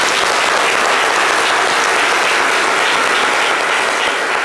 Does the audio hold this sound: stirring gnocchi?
no